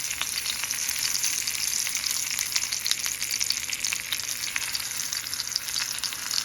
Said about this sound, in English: this is a pan fry way I'm doing this